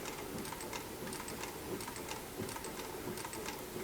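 A sewing machine stitches a leather piping seam on upholstery for a Stickley #319 Mission rocker backrest, a steady close, rapid whirring run with faint ticking, with no talk over it.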